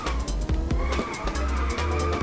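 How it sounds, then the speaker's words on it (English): Car drifting in the racing game Inertial Drift, with a revving engine and sustained tire squeal through repeated slides and gear shifts, loud and close, without talk. "These drifts do feel pretty good"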